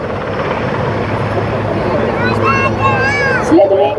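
A navy helicopter hovers loudly and steadily for marine commandos slithering down to deploy. Its rotor and engine roar continues without a break, while crowd babble and faint voices sound beneath it.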